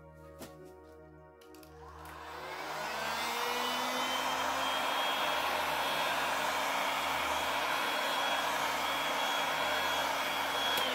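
A heat gun blasts hot air onto cured resin on a wooden double-sided rolling tray to soften it for peeling. After a brief quiet start it climbs into a steady, loud, close whooshing roar that holds unbroken.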